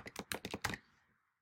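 Quick typing on a computer keyboard, about six crisp key clicks in a rapid burst close to the microphone, then quiet.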